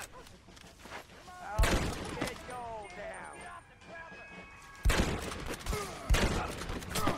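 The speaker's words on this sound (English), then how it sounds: "someone's shooting me from like right over there" Gunfire in the Western video game Red Dead Redemption breaks out in several loud bursts of shots, mixed with game voices and a player talking.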